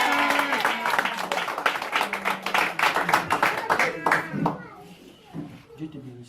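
Inside a church service, a congregation claps loudly in a quick, steady rhythm under voices and shouts of acclaim, and the clapping then dies away into murmuring.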